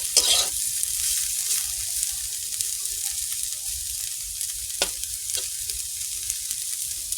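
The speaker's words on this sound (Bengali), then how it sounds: "আলু ভাজা করতে চলে এসেছি" Potatoes sizzle in hot oil in a pan with a constant crackling hiss, broken by occasional scraping clinks as they are stirred.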